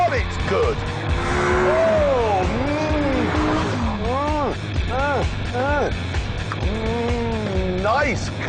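A supercar drives hard with tires squealing in repeated rising and falling yelps over a loud engine drone, close by, while someone talks over it.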